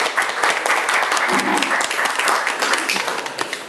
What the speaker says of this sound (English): please welcome Dr. Soumitra Kundu with a big round of applause.